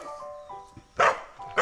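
A dog at a family's simple home gives two sharp, loud barks close by, following a stretch of quieter background voices and sounds.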